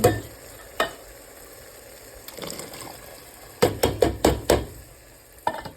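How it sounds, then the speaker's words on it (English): Canned kidney beans tipped into a pot of homemade chili, giving a cluster of soft, wet thuds and clunks near the end, with scattered scrapes and a steady low kitchen hum. "So I just opened all my cans, and I'm just going to dump in my kidney beans."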